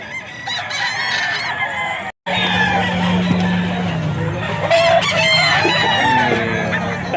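Crowded pet market in Bocaue where an 18-month-old bull stag rooster crows loudly and close, surrounded by other clucking fowl and background chatter.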